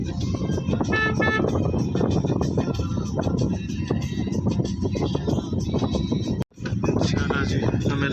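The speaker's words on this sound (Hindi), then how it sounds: "इनको हॉर्न देते हैं।" A car horn toots during an outdoor ride in traffic, with short honks sounding over constant wind buffeting and road noise.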